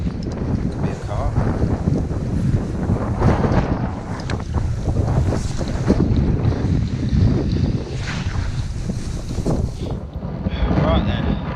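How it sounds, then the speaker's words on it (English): Wind gusts buffet the microphone beside a fishing lake on a cold, blustery day, a steady rumbling roar with rising and falling surges that carries on without pause for the whole stretch. "It's still cold and it's still windy."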